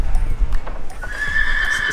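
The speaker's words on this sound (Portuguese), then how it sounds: "Esse cavalo aqui é muito bonzinho" A horse neighs loudly nearby with a long whinny, while hooves clop on the ground and a voice is faintly present in the background.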